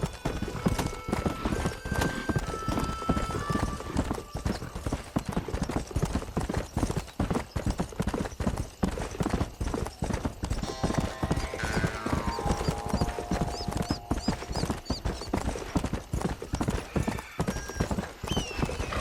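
Horse hooves clip-clop in Red Dead Redemption in a fast, loud, continuous rhythm with music and game ambience layered behind, and no talking over them.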